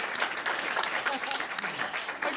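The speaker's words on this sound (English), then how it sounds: "Let's give Lyndon a round of applause." An audience claps for a speaker after a talk on ayahuasca tourism, giving a brief burst of full, close applause with a few voices mixed in.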